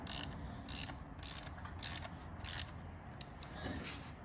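A ratcheting tool tightens an Errex damper on a Dualtron Thunder electric scooter, a series of close, crisp clicking bursts spaced about half a second apart, with a faint background hum and no voices.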